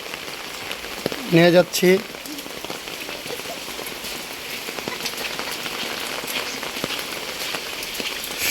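Heavy rain falls steadily and loudly in Brahmanbaria district after some ten to twelve hours of downpour, a constant dense hiss throughout, with a brief spoken phrase near the start.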